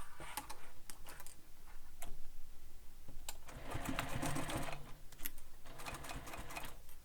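A sewing machine stitches the zipper on a sling pack in close, steady runs of rapid ticking needle strokes, pausing briefly between bursts.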